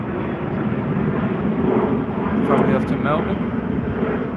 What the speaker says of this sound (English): There goes a Qantas